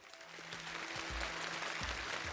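Studio audience applause on a Chinese science quiz show, a fairly faint, even wash of clapping with low thumps and a hum underneath.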